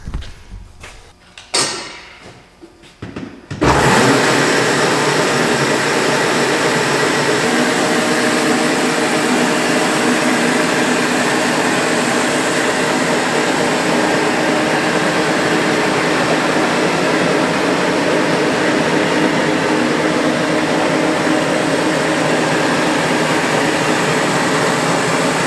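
Electric motor of a Badger BN 124 roller mill, plugged into an outlet: a few handling clicks, then it starts and runs as a loud, steady whirring drone that continues unchanged for over twenty seconds.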